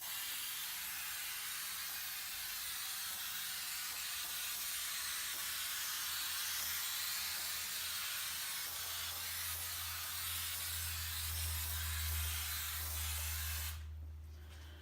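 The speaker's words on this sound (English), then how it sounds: "we're gonna just put a nice even coating of the spray on there" Aerosol spray hisses steadily onto 65-pound paper, laying down an even coat in one long continuous burst, close and fairly loud, with a low hum rising beneath it before the hiss cuts off near the end.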